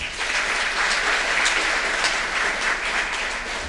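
Audience applause after a presentation, a steady dense wash of many hands clapping that holds evenly for several seconds without a break.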